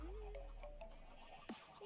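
A single faint sheep bleat from Minecraft, rising and wavering briefly under a voice.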